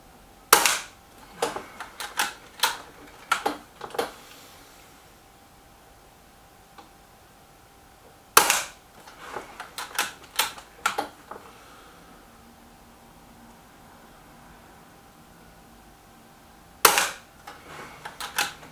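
Weihrauch HW110 and Gamo Boxer air rifles fire in a shooting contest, sharp cracks followed by rapid metallic ticks and clicks in clusters, repeated three times with quiet gaps between.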